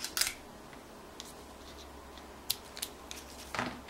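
Scissors snipping twine on a handmade Christmas card, a few quick sharp cuts spaced apart over faint rustling of paper, close and quiet.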